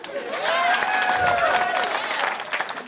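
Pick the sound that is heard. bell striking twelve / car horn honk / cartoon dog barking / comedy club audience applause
comedy club audience applause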